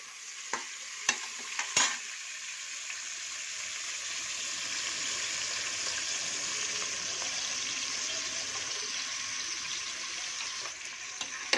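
Onions and green chilies fry in a pan while being stirred, a steady bright sizzle running throughout, with a few sharp utensil knocks near the start and end.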